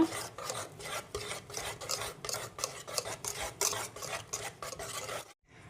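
Cake batter, with two or three drops of essence just added, gets stirred briskly in a bowl: rapid, rhythmic scraping strokes, close and steady, ending abruptly in silence.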